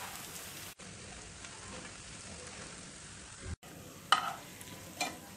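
Bread slices shallow frying in a pan, turned to brown on both sides, with a soft, steady sizzle broken by two brief cuts and a few sharper taps near the end.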